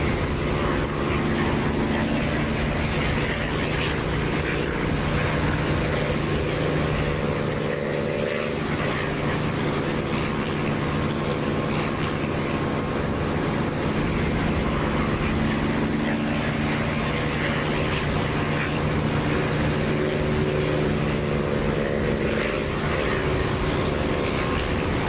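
Aircraft engine noise from the DCS flight simulator game: a steady, loud, droning hum with a low propeller-like tone that holds unbroken throughout.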